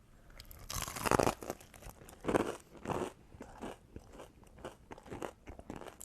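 Buffalo chicken wings are bitten and chewed close to the mic, giving repeated loud crunches in an uneven rhythm between quieter chewing, with no speech.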